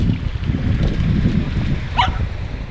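A dog playing on a breezy beach gives one short, sharp bark partway through, under steady wind rumble and surf-like noise.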